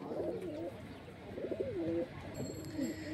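Madrasi high flying pigeons coo in a loft, with several overlapping rolling coos in repeated bouts at close range and steady low background noise throughout.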